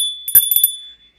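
Hand bells ring at a birthday party as Jingle Bells is played, a few quick bright strikes in an uneven rhythm over a steady high ringing tone, loud and close, then fading to near silence.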